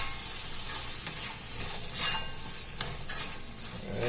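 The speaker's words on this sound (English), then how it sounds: "I'm going to add our chickpeas. Give that a nice stir in." Chickpeas are stirred into a coconut curry base over medium heat, with a steady sizzle, scattered scraping strokes and one sharper clink of a utensil on the pan, all close up and free of speech.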